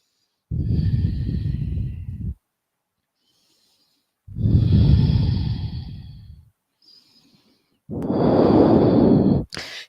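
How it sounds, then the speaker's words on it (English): Deep, audible breaths taken while holding a downward facing dog pose in a yoga class: three long, close exhalations, each lasting about two seconds, separated by quiet pauses. "Take a couple breaths."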